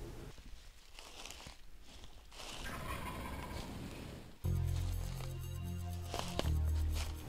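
A wild turkey gobbler gobbles during a West Virginia spring hunt, loud and fairly near, in repeated rattling calls over a rustling outdoor background with no talking.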